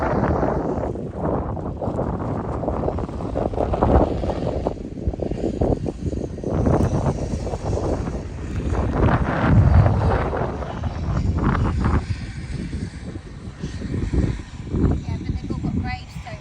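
Strong wind roars and buffets the microphone throughout at Cheddar Reservoir in Somerset, UK, a steady rumbling gust under a person talking.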